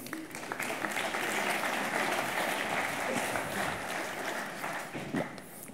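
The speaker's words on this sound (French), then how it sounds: "Je vous demande de l'applaudir" Dense, steady applause from a conference audience in France, sustained through the whole stretch with no voices on top.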